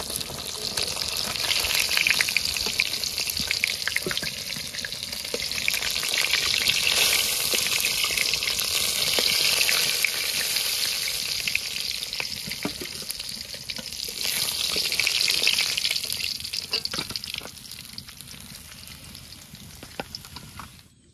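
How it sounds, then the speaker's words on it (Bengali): Pieces of katla fish frying in hot oil, giving a steady, bright sizzle that swells and eases as the pieces are moved, close and continuous, with light scraping clicks scattered throughout. "এগুলো ভালো করে ভেজে নিয়েছি"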